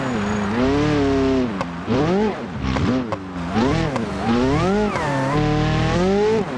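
A four-wheel-drive delivery truck's engine revs and surges in repeated rising and falling waves as it drives hard and oversteers, loud and close for the whole stretch.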